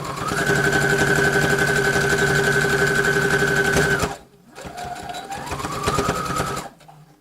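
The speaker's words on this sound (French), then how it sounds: "Machine à coudre Brother FS40." A Brother FS40 sewing machine runs at high speed for about four seconds with a steady motor hum and rapid needle chatter, stops briefly, then resumes a little slower and fades out near the end.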